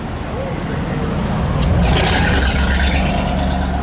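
A loud CLR Fab Design car arriving on a street at Juan-les-Pins, its engine making a deep, truck-like roar that builds and stays steady and close, with a hiss of exhaust noise rising midway.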